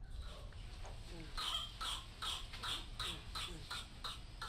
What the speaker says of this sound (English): The body attempts to rid itself of this build-up by causing a violent coughing fit.